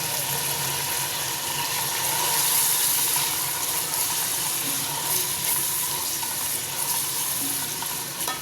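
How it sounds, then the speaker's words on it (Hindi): Cut carrots fry in a pan, giving a steady close sizzle with a constant hiss and occasional stirring scrapes, continuous throughout at moderate loudness. "अब इसमें गाजरें फ्राई करेंगे।"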